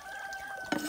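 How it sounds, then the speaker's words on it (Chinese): Faint, distant crowing from roosters raised in a Miao village carries over a quiet outdoor backdrop, with a brief louder bump near the end. "养了一年的大公鸡都在叫"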